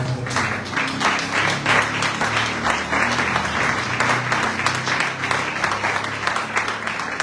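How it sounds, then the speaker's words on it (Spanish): Loud, dense applause from a church congregation during a service, many hands clapping steadily and close for several seconds with crowd murmur underneath. "Den un aplauso al Señor"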